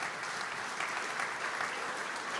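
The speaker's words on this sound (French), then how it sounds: "peut-être qu'on peut remercier par quelques applaudissements" Audience applause at a congress on Europe: a continuous, even patter of many hands clapping in a hall, moderately faint and steady from start to end.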